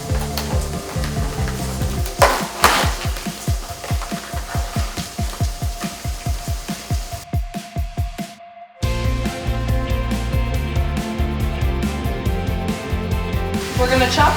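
Lean ground turkey and peppers frying in a hot pan, a loud steady sizzle broken by a run of rhythmic scraping strokes as the meat is chopped and stirred.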